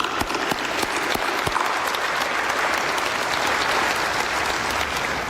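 Graduation ceremony audience gives a steady round of applause, dense clapping with a few sharp individual claps standing out early, sustained at even strength with no talk over it.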